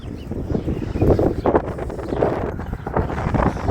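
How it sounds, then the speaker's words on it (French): Gusty wind buffets the microphone in loud, uneven rumbling bursts above the Durance valley near Sisteron, with no clear voices. "beaucoup de vent aujourd'hui"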